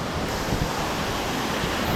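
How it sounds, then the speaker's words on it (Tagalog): River water rushes steadily toward Tousuvan Falls in Magpet, a constant broadband flow mixed with some wind buffeting on the microphone, with no talking. "yung tubig dito, o dadaloy papunta doon sa may falls banda"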